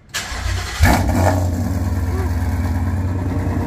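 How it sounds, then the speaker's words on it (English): A very loud car engine cranks and fires up inside a garage, settling into a heavy, pulsing idle that fills the space. "Now he's gonna start it. This thing is stupid loud."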